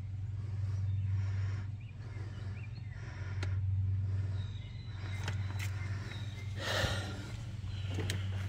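A Jeep J10 engine that had sat for about two years catches and runs, its low rumble swelling and dipping in rough surges with a few sharp clanks, close and alone.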